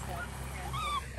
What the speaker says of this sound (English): if you hear our dog crying,